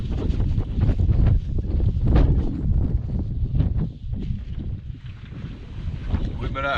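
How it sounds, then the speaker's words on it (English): Strong wind buffets the microphone on a river during a catfishing trip, a steady loud roar with gusts, while a person talks over it. "It's super windy."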